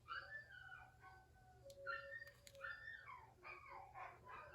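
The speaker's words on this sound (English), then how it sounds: "Oh, and there's the neighbor dogs too." Several dogs howl and whine at passing sirens in long rising and falling wails, fairly faint and distant, overlapping one another while the siren tone wavers behind them.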